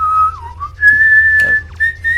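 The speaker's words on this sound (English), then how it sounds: "He's whistling to that." A person whistles a wavering tune with sliding notes and some sustained high tones over a voice chat connection. A low hum sits underneath, and there is no talking.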